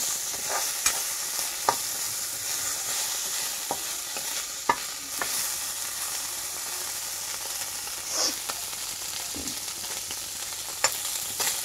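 Small fish sizzle steadily as they fry in hot oil, with occasional sharp clicks and taps of a utensil against the pan.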